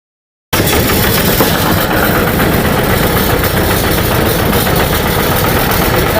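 A boat engine runs on the Padma river, a loud, steady mechanical drone with a rough knocking rumble that starts abruptly after a moment of silence and continues unbroken, close by and with no talking.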